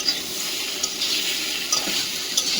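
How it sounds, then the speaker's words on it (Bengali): Hot water from an electric kettle poured into a pan of fried tomatoes and cumin, a short steady splashing pour with a few brighter gurgles, close and fairly loud. "এবারে জল দিয়ে দেবো"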